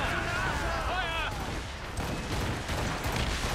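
Naval cannon fire in the Assassin's Creed Rogue video game booms through continuous noisy battle ambience, with a brief wavering whistle early on and dense rumbling blasts overlapping throughout, loud and close.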